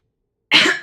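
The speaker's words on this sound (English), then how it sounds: "Excuse me, I had to clear my throat" A single short, close throat clearing, an abrupt harsh rasp that starts after a moment of silence and quickly trails off.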